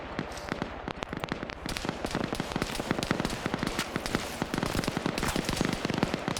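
Rapid, dense crackle of gunfire in a tactical shooter match, many sharp shots packed together over several seconds, steady and fairly loud with no talk.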